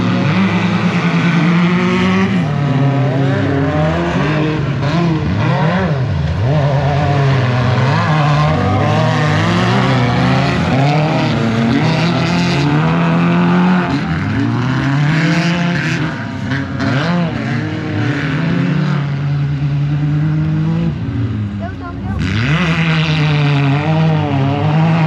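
Race cars line up and roar off at the start of a race, loud engines droning and revving with shifting pitch, several cars overlapping continuously close by.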